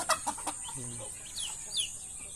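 Chickens clucking close by in a farmyard, several short clucks and calls over a steady background hiss.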